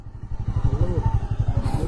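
A motorcycle passes close by near a hill temple, its engine putting out a rapid, even throbbing pulse that stays loud for the brief moment.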